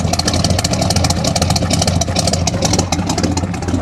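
A steady, loud engine rumble from a 1980 Dodge Utiline pickup with an aftermarket cam, a deep idle with a lopey, uneven throb, close by and alone with no talk.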